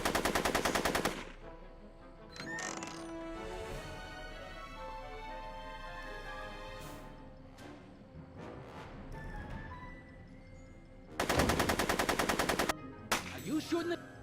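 Rapid automatic gunfire in the video game Back to the Future: Episode 2, a loud sustained burst at the start and another near the end, with quieter game sounds and music in between.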